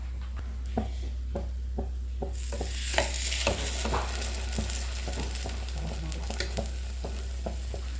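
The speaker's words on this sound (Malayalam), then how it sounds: "അങ്ങനെ തിരിച്ചു മറിച്ചിട്ടിട്ട് നമുക്ക് നന്നായിട്ട് ടോസ്റ്റ് ചെയ്ത് എടുക്കണം" Bread for French toast sizzles in butter in a frying pan, a soft steady fry with scattered crackles and occasional scraping taps of a utensil, close and fairly quiet, with no talking.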